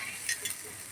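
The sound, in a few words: stirring masala curry in a pan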